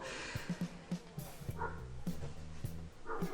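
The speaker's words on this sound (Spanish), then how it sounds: "Y también hay puros perros ladrando aquí a esta hora" Several dogs bark outdoors in short, repeated bursts with a few yips, moderately distant and fairly faint, continuing steadily through the moment.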